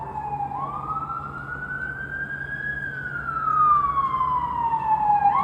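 An ambulance siren wails in a long, slow rising and falling sweep, clear against a low road rumble, growing a little louder toward the end.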